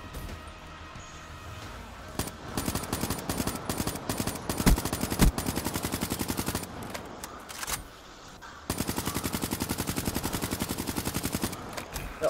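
M8 rifle fire in a search-and-destroy shooter match: rapid automatic bursts of rattling shots, several separate strings with short pauses, some close and sharp, others slightly farther off.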